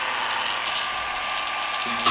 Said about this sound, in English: Screws aren't particularly good, so I'm just going to pre-drill all the way through.